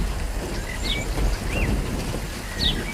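Heavy rain pours down in a cartoon scene, a dense, steady hiss with low rumbling beneath it and a few thin, high chirps rising above the downpour.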